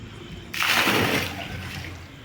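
Water suddenly gushes and splashes in a heavy pour as a catch of fish is tipped out with it at night, then settles into a softer sloshing trickle.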